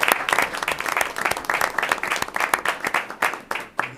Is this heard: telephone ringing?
no